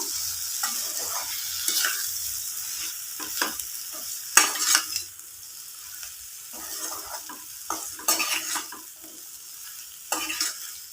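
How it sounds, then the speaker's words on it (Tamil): A spoon stirs okra frying in a pan for tamarind curry, giving a steady sizzle broken by a series of scraping, clinking strokes against the pan, with no talk. "வெண்டைக்காய் சேர்த்து நல்லா கலந்து விட்டுப்போம்."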